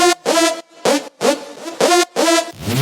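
Electro house melodic synth loop made of bright, harmonically rich stabs in a choppy rhythm, five or six loud notes separated by short gaps, heard alone and up close.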